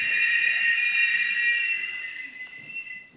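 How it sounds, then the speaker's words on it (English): A quick, tuneful whistle with steady high tones, loud at first and fading toward the end, heard alone in a debate hall. "a tuneful whistle"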